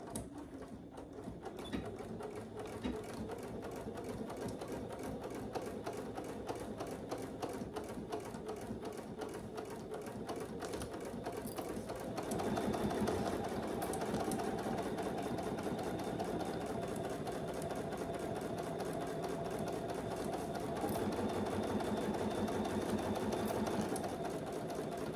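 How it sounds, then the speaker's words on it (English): A sewing machine runs continuously around the sides and bottom of a fabric clutch, giving a steady, close mechanical hum with rapid stitching rhythm throughout. "now we're going to sew just around the sides and the bottom, following our Decaville"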